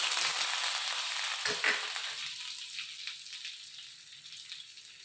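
Butter sizzling as it melts in a hot kadai for peanut butter masala, a bright crackling hiss that is strong at first and slowly fades as the butter settles, heard close with no voices.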